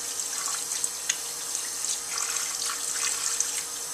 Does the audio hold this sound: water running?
yes